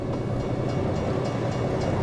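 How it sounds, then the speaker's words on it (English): Trains passing by in the American Truck Simulator game, a steady low rumble and rolling clatter that holds loud and continuous throughout, with no voices. "the damn trains keep coming by"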